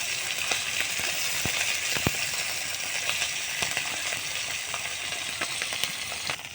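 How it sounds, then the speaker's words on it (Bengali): Koi fish fry in hot oil on a stove, giving a steady, close sizzle with scattered crackles and small pops throughout. "মাছগুলো চুলায় দিয়ে দিলাম, ভাজা হচ্ছে"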